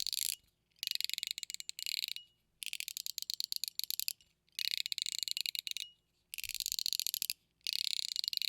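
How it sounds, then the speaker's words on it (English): Bursts of rapid ratcheting clicks from a KAiS Popo fidget toy come in repeated runs separated by short silences, close and crisp. "Maybe gives it more of just like a ratchety kind of sound."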